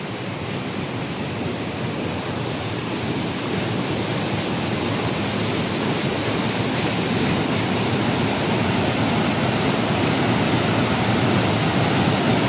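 Rushing water at a waterfall in Mindoro during Typhoon Uwan, a steady, loud, broadband roar that holds constant throughout with no voices.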